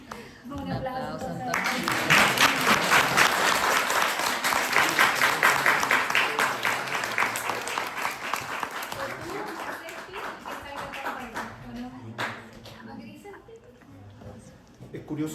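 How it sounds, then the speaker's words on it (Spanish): An audience applauding at a product launch event, sustained dense clapping that swells early and holds for several seconds before tapering off, with voices heard at times over it. "Un aplauso."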